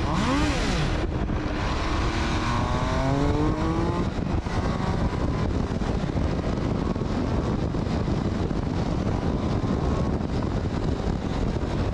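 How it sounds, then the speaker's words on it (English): An MV Agusta Dragster 800 RR motorcycle revs and rides past, loud rising exhaust note climbing through gears, then a steady roaring drone heavy with wind noise. "Let's get some exhaust sound over here to get these guys moving."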